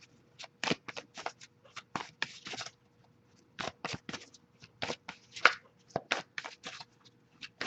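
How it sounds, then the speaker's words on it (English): Quick riffling bursts of tarot cards being shuffled, repeated in irregular clusters with short pauses, close and crisp in a quiet room. "I'll give it a few more shuffles."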